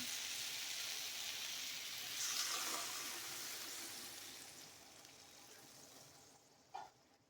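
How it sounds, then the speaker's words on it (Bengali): Water pours into a pot of bottle gourd, potato and katla fish curry as a soft, steady rushing hiss that slowly fades. A small knock comes near the end. The whole sound is quiet and close. "এবার দিয়ে দেবো এর মধ্যে পরিমাণ মতো জল"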